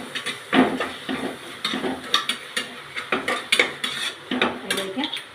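Egg biriyani masala being stirred in a pot, with a spoon scraping and knocking against the metal in a fairly quick rhythm of close, clear clanks.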